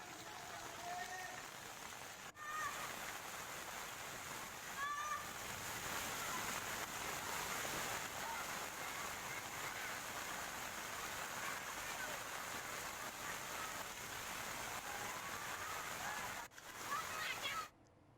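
Heavy rain pouring down on a waterlogged town in Uttar Pradesh, a dense, continuous hiss of drops striking surfaces for the whole stretch, with faint voices now and then beneath the downpour.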